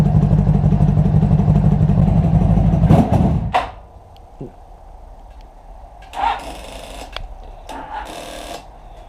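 A motorcycle engine with a weak battery runs loud and rough for about three seconds, then stalls and cuts out abruptly. Quieter clicks and handling noises follow.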